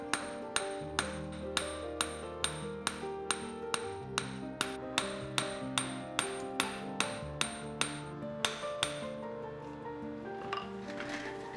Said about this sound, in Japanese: インゴットは金槌で叩いてよく締めて鍛えてから圧延ローラーで伸ばします。